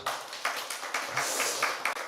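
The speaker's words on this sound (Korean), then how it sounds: "그냥 그러지 마시고 박수 한번 쳐주시죠" A church congregation applauding during a Sunday worship service: a short, fairly faint burst of hand clapping with uneven, overlapping claps that holds steady for about two seconds, with no talking.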